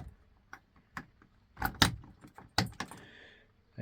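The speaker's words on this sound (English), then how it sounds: "I've got 2 spare keys, which is nice." A set of spare keys for a Newbridge Voyager 23 sailing boat jangling nearby, a few light taps followed by louder shaking clinks in short bursts.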